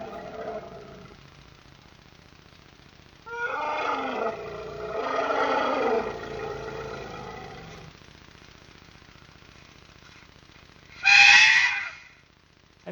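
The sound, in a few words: elephant vocalizing when scared or disturbed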